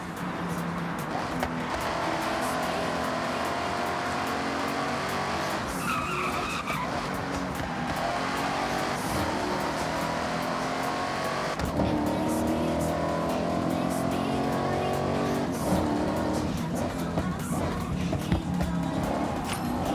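Race cars tear through a Forza Horizon 6 race, engines roaring and tires skidding and squealing continuously at close range, with a voice speaking over the action.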